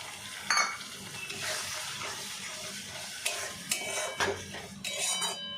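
Water used to rinse spice paste from a mixer-grinder bowl is poured into a cooking pan for a vegetarian jackfruit rezala, with light splashing, clinking utensils and soft sizzling.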